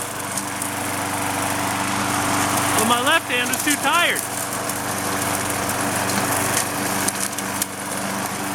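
A Craftsman 6.75 hp lawn mower runs steadily through the whole stretch on a suburban lawn, its engine drone constant and close while someone speaks briefly over it.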